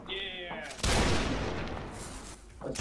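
A musket volley in a Napoleonic line-battle video game, a sudden loud crash of many shots fired together that rolls on and slowly fades, with voices audible briefly before and after.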